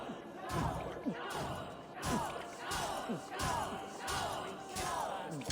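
A crowd in Assassin's Creed Valhalla cheers and shouts in repeated swelling bursts at a medium distance, with the voices overlapping in a lively, rowdy hubbub.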